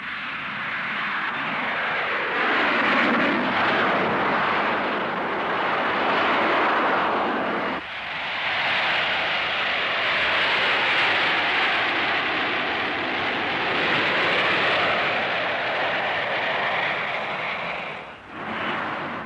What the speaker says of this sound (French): Verra-t-on un jour les avions décoller du centre des villes, comme ce Harrier à New York?